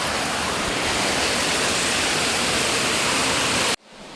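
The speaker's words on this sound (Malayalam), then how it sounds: "ഇപ്പം മഴ പെയ്തുകൊണ്ട്" Heavy rain falling in a monsoon downpour, a dense, loud, even roar of water that runs unbroken before cutting off abruptly near the end.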